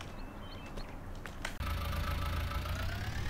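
A tractor engine idling in a survival roleplay game, a low steady rumble that grows louder and fuller partway through after a brief sharp click, continuing evenly to the end.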